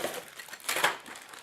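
Plastic bags from a Tamiya 1/14 King Hauler RC truck kit being opened, a close, brief burst of crinkling and rustling plastic with a louder crunch near the end.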